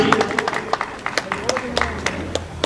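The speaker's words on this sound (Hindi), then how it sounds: "एक बार जोरदार तालियां कलाकार साथियों के लिए" Scattered hand claps for performers from a small crowd, uneven and sparse, rising into brief applause over a murmur of background noise.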